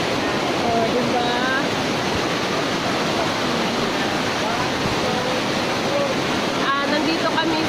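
The Seven Falls Terraces waterfall in Palavilla Lutayan, Sultan Kudarat roars in a dense, close, unbroken rush of falling water, with faint voices and splashing from bathers underneath.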